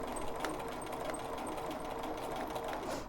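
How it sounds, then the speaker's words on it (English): Sewing machine stitching through a quilt along a seam line, a continuous close mechanical whir with a rapid even needle rhythm and light ticking, steady throughout. "stitch as close as you can to that seam line"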